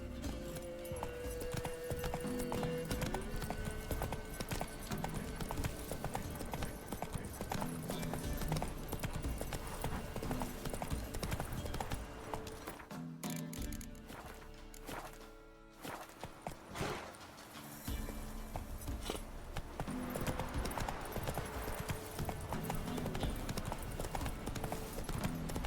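Roach, a horse in The Witcher 3, gallops with steady clip-clopping hooves that run almost throughout, loud and close over game music and ambience, thinning briefly partway through before resuming.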